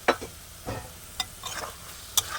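Food stirred in a pan with a metal spatula, several sharp scrapes and clinks spaced irregularly over a low sizzle.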